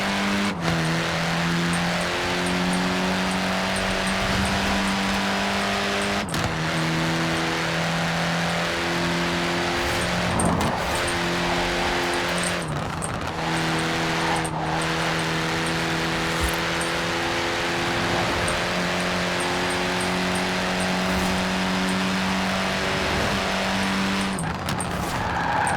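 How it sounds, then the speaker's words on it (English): A revving modified Mini Cooper engine in Forza Horizon 4 drones steadily with shifting pitch, punctuated by sharp crackles and pops from the spitting exhaust, loud and close throughout. "Definitely sounds like a souped-up version of a Mini Cooper with that spitting exhaust sound"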